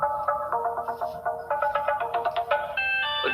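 A mobile phone rings with a bright repeating electronic melody, steady and clear for several seconds, tones stepping in quick rhythmic pulses.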